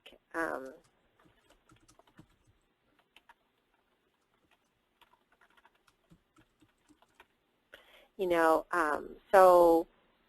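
Text is typed on a computer keyboard as soft, sparse clicks scattered through a quiet stretch, with a voice speaking briefly before and after.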